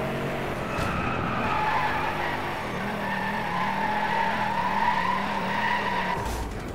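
A Pagani hypercar drifts in Driveclub with a steady, sustained tire squeal over a humming engine, the screech continuing loudly for several seconds before cutting off.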